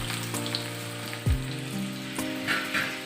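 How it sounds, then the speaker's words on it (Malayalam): Finely chopped onions frying in hot oil for an egg curry with mango, a close, steady sizzle with a brief hiss when they hit the pan, over a faint humming tone, with no talking. "ഉള്ളി ചെറുതാക്കി അരിഞ്ഞത് അതിലേക്ക് ഇട്ട് കൊടുക്കാം."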